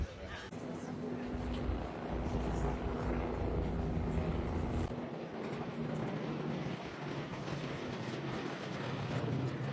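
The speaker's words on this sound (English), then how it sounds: "it was about 40 minutes later that the helicopter does arrive." A steady, loud rotor drone fills the scene as a helicopter arrives at a cruise ship, continuous and close, with the low rumble shifting midway as it nears.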